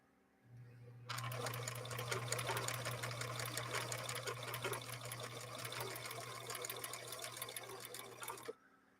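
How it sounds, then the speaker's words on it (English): A vintage Swedish 3010 sewing machine stitches a blind hem in one continuous run of rapid, even clatter over a low motor hum, starting and stopping abruptly, close up with no speech. "let's do that blind hem stitch now on this other 3010 for Barbara."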